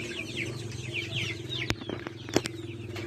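Hungry Rhode Island Red chickens clucking while feeding in a small coop in the Philippines, a steady chorus of soft overlapping clucks with a few sharp pecking taps and calls, fairly quiet and unaccompanied by talk.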